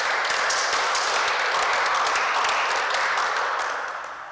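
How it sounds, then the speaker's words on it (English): An audience at a book reading gives sustained applause, dense steady clapping from many hands filling the room, holding level and then tapering off toward the end. "I want to give a clap here."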